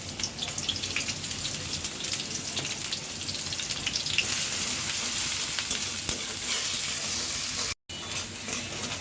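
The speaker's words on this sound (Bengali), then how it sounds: "রসুন আর পেঁয়াজটা বাদামি করে ভেজে নিব ডাল বাগার দেওয়ার জন্য" Garlic and onion fry in hot oil for a dal tempering in a home kitchen, making a continuous close sizzle with faint stirring scrapes throughout.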